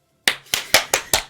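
Five sharp, close hand claps in an uneven rhythm, each a crisp smack with a quick decay, with silence just before the first.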